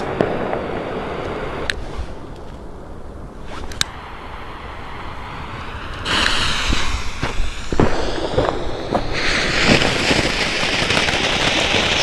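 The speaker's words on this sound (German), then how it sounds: "So, dann haben wir Double Star. 7 Schuss, 2 Stufen Batterie." A WECO Double Star 7-shot, two-stage firework battery fires a string of sharp crackling bursts against a steady outdoor hiss, with a louder, denser volley in the second half.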